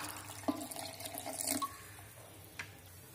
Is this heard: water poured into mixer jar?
yes